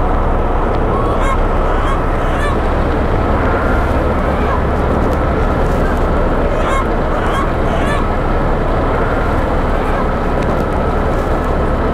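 A big crowd of chickens fills the air with a loud, constant din of clucks and honking calls that never lets up, close and dense throughout.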